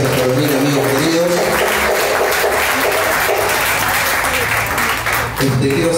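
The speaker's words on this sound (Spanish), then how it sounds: "Fuerte el aplauso para ellos." A milonga crowd at El Beso applauds a tango group steadily for several seconds, a dense wash of clapping that briefly dips near the end before swelling again.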